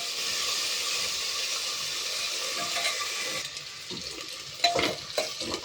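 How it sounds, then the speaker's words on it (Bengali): Potatoes frying in oil in a pan give a steady broad sizzle while being stirred, with scraping and utensil clinks growing louder near the end. "এবারে এটাকে আলুগুলোকে ভালো করে একটু ভেজে নেব"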